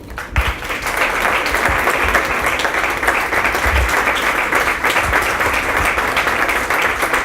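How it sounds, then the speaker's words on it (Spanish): Sustained applause from an audience at a university essay contest award ceremony, steady dense clapping throughout at a constant loud level, with no talk over it. "Brindemos un fuerte aplauso a los ganadores"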